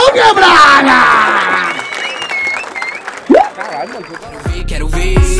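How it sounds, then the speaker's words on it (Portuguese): Crowd applause and cheering at a rap battle in Barueri, São Paulo, a dense burst of clapping and shouts that fades, with voices and a brief loud whoop before music starts at the end. "Palmas pro Bigão Quebrada!"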